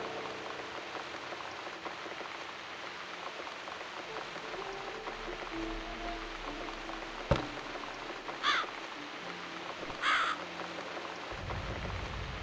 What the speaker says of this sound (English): It's this damn bird again.